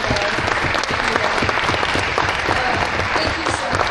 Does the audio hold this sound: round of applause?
yes